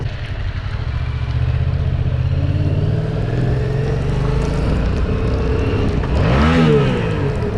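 A Yamaha MT-07's CP2 crossplane twin-cylinder engine drones loudly and steadily while riding at low revs, with a rising roll of wind across the ride and a brief throttle swell near the end.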